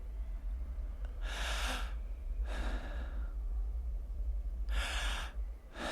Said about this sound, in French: Elle prend quelques grandes respirations.